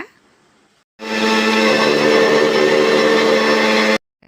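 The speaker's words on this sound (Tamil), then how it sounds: "நைஸாக அரைக்கலாம் வாங்க" A mixer grinder runs at full speed for about three seconds, a loud, steady whirring drone as it grinds cooked rice into a fine paste, starting and stopping abruptly.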